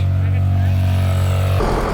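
A motorcycle with a burnt, slipping clutch being ridden on a rough road in Nepal, its engine holding a steady, loud drone that shifts abruptly near the end, with no talk over it.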